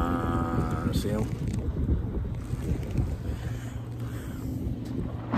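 A motorboat drones past on open water, a steady low engine hum heard at a distance beneath wind buffeting the microphone while someone speaks aboard a sailboat.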